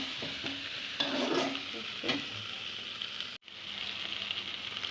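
Ground spice pastes sizzle and fry in a pan, a steady close crackle with a few scraping stirs, one brief dropout near the end, and no talking.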